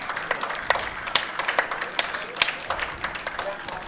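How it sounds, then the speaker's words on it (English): Teammates at an over-40s men's national cricket championship final cheer and clap for a Queensland batsman reaching his century, with scattered claps and crowd noise coming in bursts under a commentator's voice. "he gets a huge cheer from his teammates"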